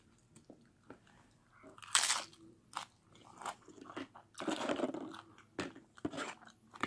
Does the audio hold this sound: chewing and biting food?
yes